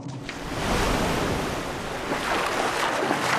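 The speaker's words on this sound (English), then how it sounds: "Just then, a mighty wave rises, tossing the sea lion aside" A mighty ocean wave surges and crashes in a steady, loud roar of surf with some wind. It is used as a sound effect in an animated children's story about a baby penguin and a sea lion.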